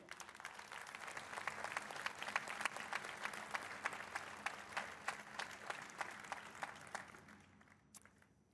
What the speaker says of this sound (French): vous pouvez, je crois, également les applaudir